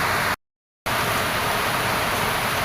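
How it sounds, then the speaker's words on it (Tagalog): Steady, dense rain is heard falling around a hut in the Philippines as a continuous wash of noise, broken once by a short moment of total silence, with no voices over it. "Ay pakita natin yung ulan mga kadalubasa dito sa kubo ni Idol Japper Sniper."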